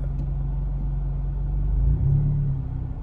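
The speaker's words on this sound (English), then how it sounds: "Y'all can hear my car running." A car engine idles steadily with a low, deep rumble and a brief swell partway through, close by and with no talk over it.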